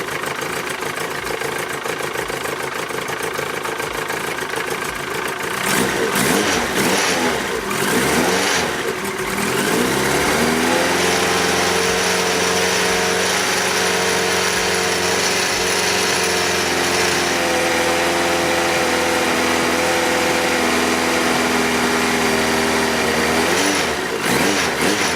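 A Yamaha 900 Diversion motorcycle engine runs after an oil change, idling steadily and close by, with a brief blip of revs before settling into an even, continuous hum with no talking.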